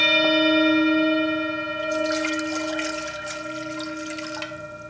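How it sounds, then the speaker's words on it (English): A Himalayan singing bowl rings with steady sustained tones while water is poured in, the pour adding a splashing, bubbling wash partway through as the ringing continues and slowly fades. "I'm going to get the bowl ringing, and then I'll pour water in."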